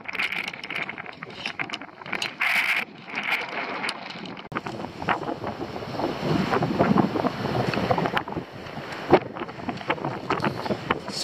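Strong coastal wind gusting across the microphone on a stormy shoreline while foraging for scallops and abalone, a loud continuous roar with buffeting bursts mixed with surf, alone without talk.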